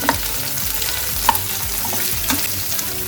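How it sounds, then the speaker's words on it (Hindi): Potatoes, onion and capsicum sauté in a pan with a constant close sizzle, punctuated by a few sharp clinks of a spoon against the metal. "अब इसको हल्का सा सौटे करेंगे।"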